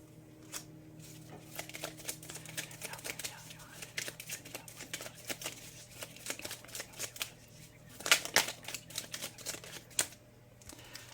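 Tarot cards are shuffled and drawn, giving soft, close paper riffles and flicks with scattered sharper snaps. A quiet voice speaks now and then.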